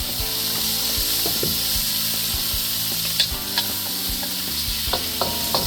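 Yakisoba noodles sizzle steadily in regular oil in a pan, with repeated scraping and stirring knocks from a utensil throughout, close and fairly loud.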